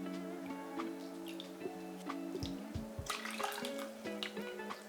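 Two cups of water poured into a cup of oats in a pot: a steady close trickle and splash with small gurgles and drips, no one talking.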